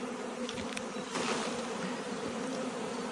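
A steady, dense buzz of many bees fills the whole stretch, close and continuous, with faint handling noises underneath as bees are shaken off hive frames.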